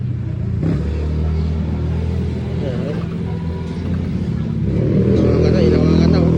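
A motorcycle engine runs nearby, rumbling and rising in revs, while people talk over it throughout.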